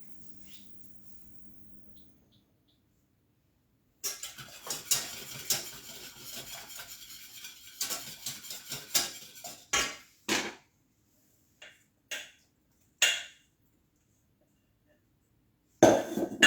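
A custard-like cream heats and thickens in a saucepan while being stirred, heard as close, irregular scraping and light metallic clinks that start after a quiet opening and give way to scattered knocks toward the end.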